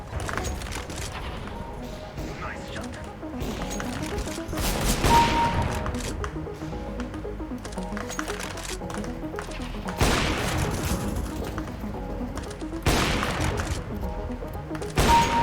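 Video game gunfire played through a Razer Kraken V3 HyperSense headset: repeated sharp shots and bursts, some rapid, at moderate loudness over a busy game background with occasional talk.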